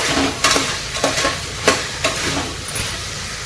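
Rice and salt fry and sizzle in a pan for a Gujarati-style pulao, with a spoon scraping and stirring in regular strokes over the constant hiss.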